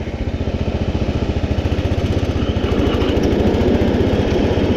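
A John Deere 112 garden tractor engine runs steadily while mowing in third gear, a loud, close, evenly pulsing drone with no talk over it.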